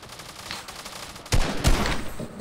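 Gunfire in the Fortnite video game, a muffled stretch of rapid shots that swells into louder, closer bursts of automatic fire partway through, with no talking.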